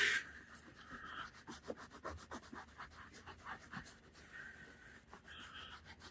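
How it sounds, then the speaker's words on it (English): Conditioner being massaged into a leather car seat in small circles, a soft steady rubbing and scuffing that runs continuously and close by, with no talking. "simply massage it into the leather in little circles"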